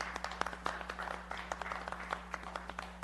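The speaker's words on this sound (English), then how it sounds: "That deserves a round of applause." Applause from a committee meeting audience honoring police officers, a steady patter of many hands clapping at moderate distance with a low hum underneath.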